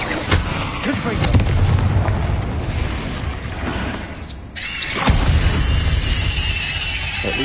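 A Confringo fire spell blasts in Hogwarts Legacy inside a tomb, dense loud bursts and crackling impacts filling the whole stretch, with a brief dip before another heavy blast.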